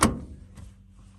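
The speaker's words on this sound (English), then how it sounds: "push on the sliding door handle" A single sharp plastic click of a T1N Sprinter van's sliding door handle being pushed, followed by a faint second click and quiet rustling.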